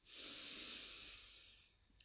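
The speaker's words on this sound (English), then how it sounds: "take a deep breath in through the nose" A single long, deep inhale through the nose during a guided deep-breathing exercise, a steady airy hiss lasting nearly two seconds, close and fairly quiet, with no talk over it.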